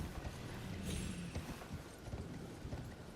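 Horse hooves clip-clopping in Elden Ring, a quick steady run of soft hoofbeats over a hissy game background, fairly faint and without talk.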